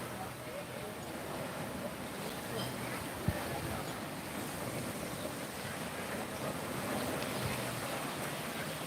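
Calm ocean water at Ho'okena beach, an old fishing village in Hawaii, makes a soft, steady wash of gentle surf mixed with light wind, faint and continuous throughout.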